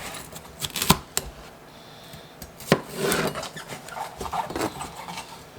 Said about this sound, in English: Let's chop up these peppers and get them on the dehydrator.